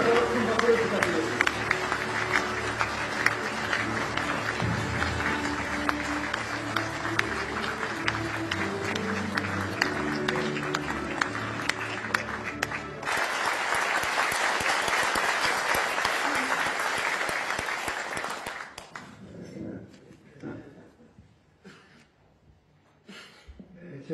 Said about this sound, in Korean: 이명박 대통령님께 그렇게 일어나서 큰 박수를 부탁드립니다